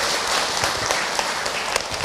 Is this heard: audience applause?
yes